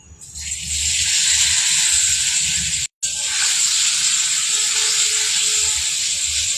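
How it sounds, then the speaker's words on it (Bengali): Paneer hits hot oil in a wok and fries with a loud, steady, close sizzle and hiss that runs continuously, broken by one brief cut. "তেলটা গরম হয়ে গেছে, পনিরগুলো দিয়ে দেবো।"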